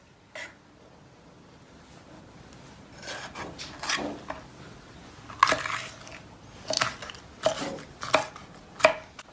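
A knife chops onions into not-too-fine pieces on a board: a series of crisp, sharp chops, sparse at first, then a steady rhythm of louder strikes toward the end, close and with no talk.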